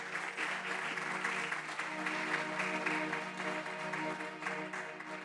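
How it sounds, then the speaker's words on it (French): A concert crowd at the Institut Français du Congo claps for itself, steady, moderately distant applause of many hands continuing throughout with a faint background hum beneath. "Est-ce qu'on peut applaudir pour vous-même ?"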